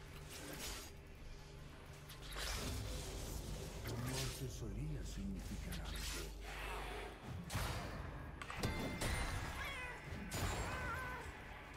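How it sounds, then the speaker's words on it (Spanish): Kittens meow in the video game League of Legends, several wavering cries rising and falling mid-clip amid dense game effects and busy background sound. "Los gatitos como suenan"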